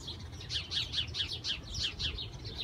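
House sparrows nesting in a birdhouse made from recycled materials in an urban front yard, with baby birds giving rapid, repeated high chirps in a steady pulsing rhythm, fairly faint and close.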